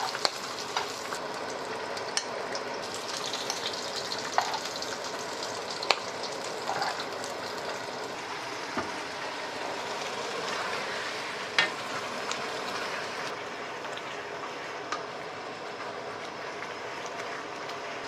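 Abalone grilling in butter in a pan for abalone porridge, a steady close sizzle and crackle running unbroken throughout with small sharp pops, no talking.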